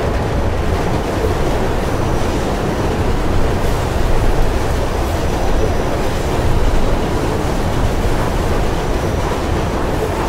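Train riding in the video game Mirror's Edge: a constant loud rushing rumble with wind-like noise, steady throughout and heard alone.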